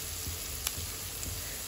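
Ginger garlic paste with crushed chili frying in a pan, a steady close sizzle and crackle over the full stretch with a few faint stirring taps.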